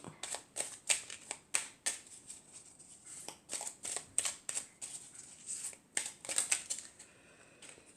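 Oracle cards are shuffled and drawn by hand, a close series of quick papery riffles and flicks in uneven bursts, fairly quiet with no talking.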